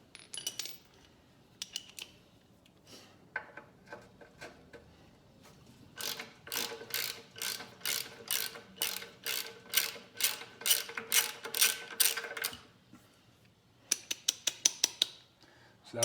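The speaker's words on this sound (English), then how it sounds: "You just take that bolt off and it'll come down right here." A ratchet wrench clicks steadily as it backs out a 10mm bolt holding the rectifier on a 1968 Honda CL90 motorcycle. The rapid close ratcheting comes in bursts with short pauses between them, and nobody speaks.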